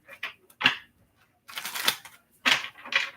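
A tarot card deck is shuffled in short riffling bursts, about four quick flurries separated by brief pauses. The sound is close and fairly quiet, with no talking.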